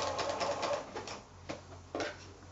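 A home sewing machine stitching a free-form curved quilt seam, a fast, steady mechanical patter that slows and fades into quieter intermittent ticks and handling sounds, heard close up with no talk.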